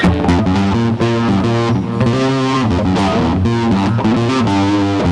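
A distorted electric guitar plays a chugging, rhythmic line with a wet, reverberant tone, loud and up close with no voices.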